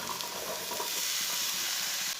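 Onions, peas, chopped carrots and potatoes frying in a pan: a continuous bright sizzle with faint stirring scrapes, close and steady for a couple of seconds without talk.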